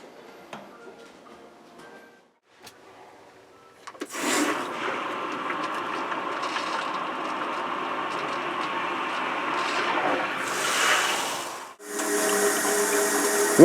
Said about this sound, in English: open up one of your sinks on the hot water side and then turn on your cold water so that way it'll start filling your tank